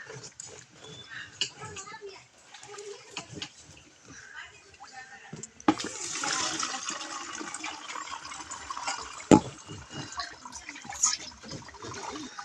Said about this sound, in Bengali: এখন এটাকে ধোয়া চলছে।